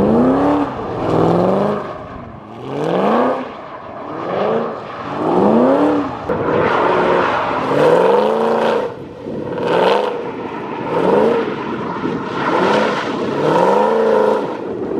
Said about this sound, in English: I'll put some clips of drifting it because it was an absolute blast.